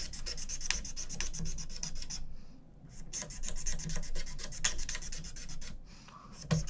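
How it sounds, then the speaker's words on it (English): Razor blade scraping along the fretboard of a Yamaha APX5 acoustic guitar during a bridge repair, a series of quick rasping strokes in steady rhythm, close and fairly quiet, with a brief pause between strokes. "And scrape across the fretboard."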